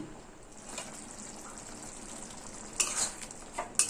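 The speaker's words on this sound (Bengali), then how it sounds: "এবার সবকিছু মশলা খুব ভালোভাবে মিশিয়ে দিলাম।" Fish roe with turmeric, salt, ginger paste and garlic paste is stirred in a frying pan, making a soft steady sizzle with scraping, then a few sharp utensil clinks near the end.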